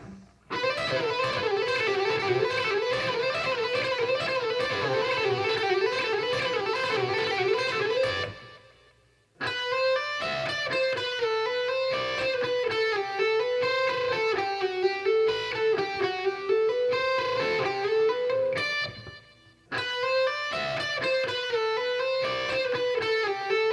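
Distorted electric guitar plays a repeating melodic lick of fast barred diatonic notes, pausing briefly twice before starting again, loud and close.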